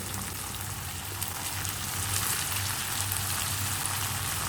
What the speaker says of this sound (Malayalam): അതുപോലെ നമുക്ക് എണ്ണയിലിട്ട് ഒന്ന് വഴറ്റിയെടുക്കണം